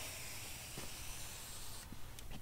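A weed sprayer spraying herbicide for bindii and broadleaf weeds gives a steady, close hiss of pressurised spray throughout, with a few faint clicks and a slight shift in tone near the end.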